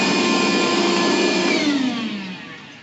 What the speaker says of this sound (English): I'm gonna vacuum it out and then take a look with the scope.